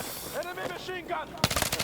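Enemy machine gun fire in Battlefield 6 erupts as a short, rapid, loud burst of shots near the end, after a voice shouts over game sounds.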